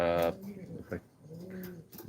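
A red checker racing pigeon coos softly nearby in a few low, rolling calls, with a brief higher call at the start and no talk.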